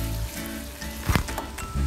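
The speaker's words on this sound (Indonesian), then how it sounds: "Lanjut langsung kita tumis irisan bawang bombay." Sliced onion sautés in a hot pan, giving a close, crackling sizzle with a few louder pops and bursts, heard alone without any talk.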